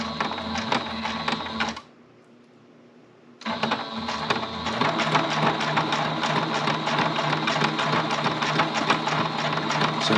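A sewing machine stitching through paper makes a steady mechanical whirring and rapid stitching hum, loud and continuous, pausing briefly for about a second and a half before resuming.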